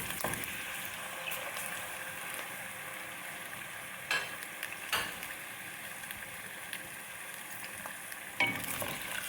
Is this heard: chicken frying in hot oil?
yes